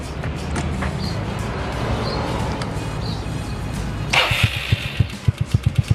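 Yamaha Nouvo MX motorcycle engine running with a rough, diesel-like rumble, steady and close, then breaking into sharp rhythmic knocks and pops toward the end.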